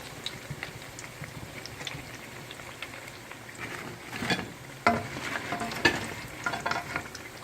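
Food such as chicken and banana fries in hot oil, a soft low sizzle with scattered crackles and a few louder clinks and scrapes near the end, quiet and close.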